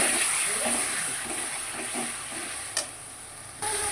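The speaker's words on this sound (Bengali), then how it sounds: "এবার মশলা ধোয়ার জলটা অল্প অল্প করে দেবো, দিয়ে একটু ভালো করে কষিয়ে নেবো এটা।" Spice paste for a katla fish curry, with fried potatoes, fries and is stirred in a pan, giving a continuous close sizzle with scraping strokes and a sharper burst of hissing near the end.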